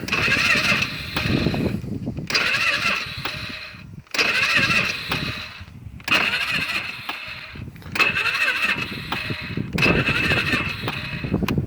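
A Polaris Sportsman 500 ATV that has been rolled over cranks over and over without catching, with about six loud starter bursts separated by short pauses.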